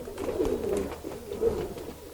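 A cobra-bred racing pigeon from a tournament line gives soft, throaty coos up close, two rolling phrases about a second apart. Faint background murmur sits beneath.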